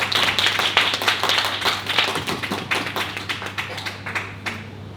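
Audience at a startup and AI keynote session clapping to welcome the first speaker, a company founder; uneven, light taps and claps rather than full applause, fading over several seconds.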